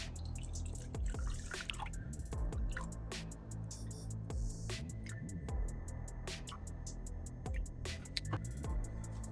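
Water is poured very slowly into a cup, producing a steady series of close, distinct drips and small splashes over a low background hum.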